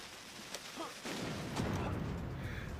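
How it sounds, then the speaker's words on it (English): Exploding skeletons in the N64 Castlevania: Legacy of Darkness, as muffled booming bursts in a short sequence, fairly faint and brief, under a voice. "Ah, exploding skeletons!"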